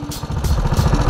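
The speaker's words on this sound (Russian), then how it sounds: "Что-то падают обороты." A racing single-seater's engine at a track event in Kremenchuk runs close and loud with a rough, pulsing drone, its revs sagging as it falters toward stalling.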